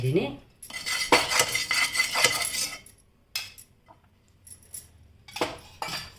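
A pan is set down on the stove and a little oil added while making keto cabbage rolls, with metallic clanks and scrapes in short bursts, some loud and close, broken by quiet pauses.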